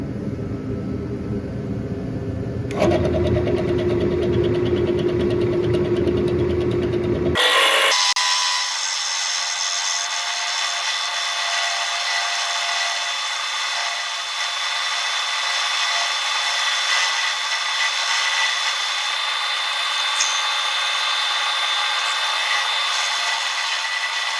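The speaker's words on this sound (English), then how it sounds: "So I just got it set up in my wood lathe" A power tool hums in a steady drone, briefly changing pitch, then a higher, smoother whir of a wood lathe, fitted with a drill press chuck, runs continuously without pause.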